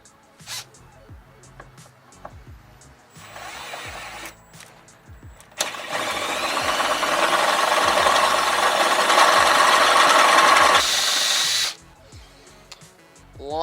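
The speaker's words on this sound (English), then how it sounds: "What we're going to do is we're going to go ahead and drill our holes," A power drill bores holes through the metal hood of a Jeep Wrangler JK, a steady loud whirring burst lasting several seconds after shorter starts and clicks, close by.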